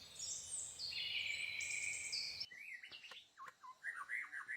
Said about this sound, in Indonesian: Murai batu, atau dalam nama ilmiahnya Copsychus malabaricus, adalah spesies burung dari keluarga Muscicapidae.